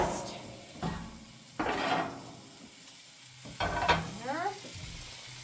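Pork roast sizzles in a pan on a woodstove, a soft frying hiss broken by clanks and scrapes of a lid and cookware, with a few brief bursts of handling noise.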